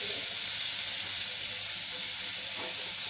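Food roasting lightly in a pan gives a constant close hiss of sizzling and steam, even and unbroken, with no voices.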